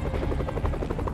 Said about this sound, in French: Il s'en va d'un hélico.